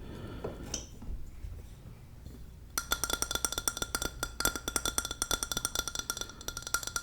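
Fingernails tap rapidly on a glass iced coffee cup, bright clinking taps in a quick steady flurry that starts abruptly after a quiet stretch with a few soft handling sounds, close and crisp.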